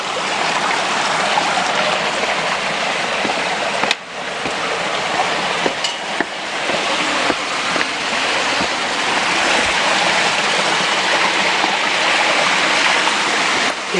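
Water rushes steadily through a béalière irrigation channel running alongside a stadium at Prades/Lalevade, making a continuous close hiss and burble with no voices.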